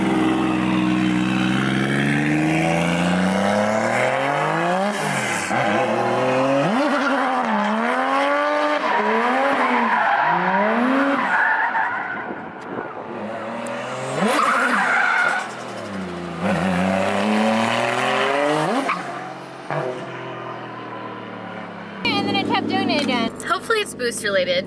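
A Toyota JZX100 drift car skidding with tires squealing, its engine revving and wailing in repeated rising and falling sweeps, loud and close, with a short break before the noise resumes.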